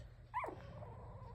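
A two-week-old puppy lets out a single short whimpering cry, close and fairly faint, over a low steady background hum.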